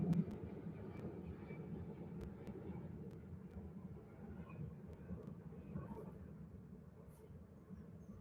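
An easyJet airliner departs Manchester Airport in thick fog, a steady broadband jet roar holding at an even, moderately distant level throughout with no voices.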